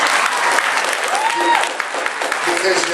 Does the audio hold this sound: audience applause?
yes